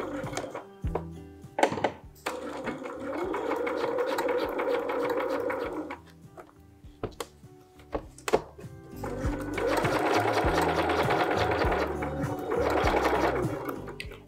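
A sewing machine stitches a zipper into a skirt, with two long steady runs of close, loud motor whirring split by a short pause filled with handling clicks and thumps, and no talking.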